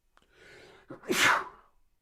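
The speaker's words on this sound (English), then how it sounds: "Damn, I got to sneeze." A single close sneeze, starting with a sharp inhale and ending in a loud burst, with no talking.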